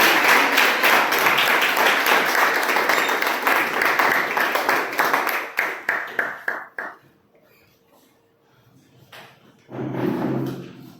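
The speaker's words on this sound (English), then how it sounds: "With huge round of applause, ladies and gentlemen, please help me welcome Toastmaster Manu." An audience at a Toastmasters club meeting applauds the incoming Toastmaster: dense, sustained clapping that thins into scattered claps, fades to near silence around seven seconds, then a short low rumble near the end.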